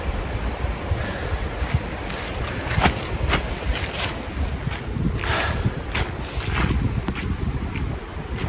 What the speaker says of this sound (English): I'm trying to stay away from that river, but I hear it getting louder again.